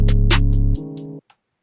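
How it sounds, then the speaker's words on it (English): Trap hi-hats programmed in FL Studio with a fill every 2 steps tick in quick, evenly spaced hits over a deep sustained bass tone, then cut off abruptly in this short beat snippet. "you do a trap beat with the hi-hats, you right click, you hit fill each 2 steps"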